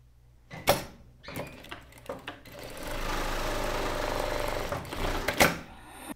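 A sewing machine stitches a hem on a shirt pocket, starting with a few short bursts and handling noises, then running steadily for a couple of seconds in a close, even whir before stopping with a clunk.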